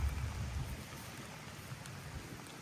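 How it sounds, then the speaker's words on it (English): Heavy rain pours down steadily during outdoor training of a working-line German shepherd, producing a dense, even hiss of drops with a low rumble underneath and no voices. "I didn't know it was gonna rain this hard"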